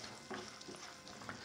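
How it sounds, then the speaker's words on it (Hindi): Raisins frying in desi ghee and butter in a pan with the flame turned off, a soft continuous sizzle with light stirring scrapes, faint and without talk. "किशमिश को 1 मिनट के लिए मजीद इसे फ्राई करूंगा"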